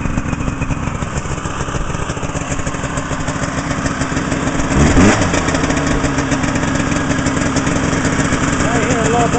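A Ski-Doo 399 TNT snowmobile engine fires and runs, a loud, steady two-stroke drone with a brief rev surge midway, close to the microphone and continuous to the end.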